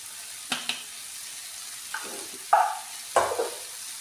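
Cauliflower sabzi with ground peanuts being stirred in a pan, giving a few soft, scattered scraping and stirring sounds over a quiet frying background.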